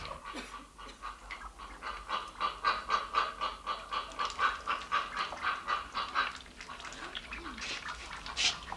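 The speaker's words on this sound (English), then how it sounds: "There's the mandarin ducks." Rapid nasal quacking and chattering from a group of mandarin ducks, fairly close and continuous, with a few louder calls standing out.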